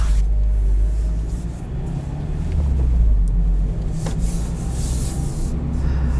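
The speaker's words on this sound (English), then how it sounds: "Yeah, the wind noise might be a bit increased." Steady, heavy wind rumble buffets a 2020 Mazda MX-5 Miata with manual top down, a loud low roar with a faint engine underneath and no voices.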